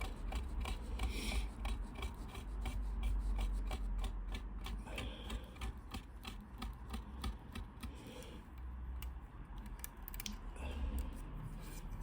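Weathering powder is rubbed into an OO gauge Cavalex CDA model wagon, making a steady close scratchy rasping and scrubbing with irregular faint clicks throughout.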